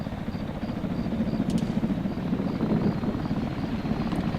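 Helicopter in Arma 3 flying under heavy anti-aircraft fire, a loud continuous rotor thrum with a dense low rumble throughout and a couple of brief sharp high clicks.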